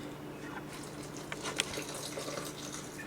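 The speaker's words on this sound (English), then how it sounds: "So we're going to put some water in there" Water poured from a tap or jug into a homemade raw-food dressing in a kitchen, a steady close splashing trickle lasting a few seconds with no one speaking.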